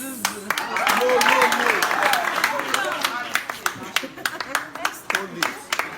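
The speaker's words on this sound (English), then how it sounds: "Clap for her." A school audience claps at a talk, with scattered individual claps that swell into a dense burst and then thin out again while a person speaks over the clapping.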